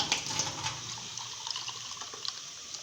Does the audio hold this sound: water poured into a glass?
yes